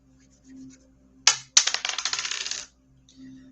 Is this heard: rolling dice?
yes